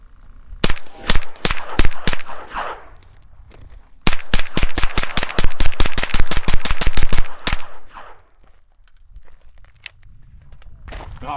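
A CZ Scorpion Evo 3 S1 fires in fast, loud bursts, one short string followed by a long rapid run of shots as the magazine is dumped, with echoing tails and a few scattered shots afterward.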